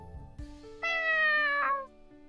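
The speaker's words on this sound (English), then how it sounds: "Who is that? Meow again." A cat meows in a video game, one long rising and falling call that sounds close and clear, with faint softer sounds just before it.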